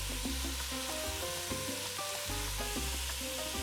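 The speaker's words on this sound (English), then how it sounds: "our beef is pretty seared and it's still sizzling" Close, continuous sizzling and crackling of beef searing in a hot pot for stew, with no one speaking.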